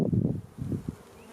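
Honeybees in a weak hive, opened for inspection, buzz in uneven swelling bursts close by, a low hum that surges and fades with brief lulls between.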